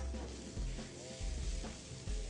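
Raw mango pieces sizzle and fry in a hot pan, a steady close crackle with a few soft stirring scrapes breaking through at intervals.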